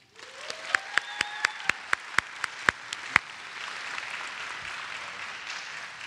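Audience applause welcoming a speaker at a college event, a broad wash of clapping that swells and holds, with a few sharp close claps standing out near the start.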